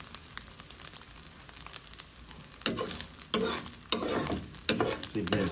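Fresh river shrimp (chevaquine) frying in a pot for rougail, a soft steady sizzle broken by several louder bursts of stirring and scraping that come in irregular surges, close and without talk.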